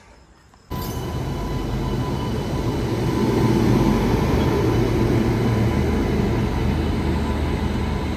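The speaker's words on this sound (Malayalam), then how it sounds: "ഗാസിയാബാദിൻ്റെ ഒരു P7 ആട്ടോ പോകുന്നത്" A WAP-7 electric locomotive from the Ghaziabad shed passes close by with a sudden loud onset, then a steady, heavy rumbling roar that swells slightly and holds to the end.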